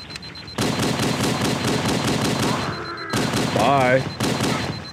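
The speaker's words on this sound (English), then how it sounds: "Dual pistols, baby." Dual pistols firing in the video game Cursed Halo, rapid close bursts of gunfire running almost continuously, with a brief pause and someone speaking over the shots.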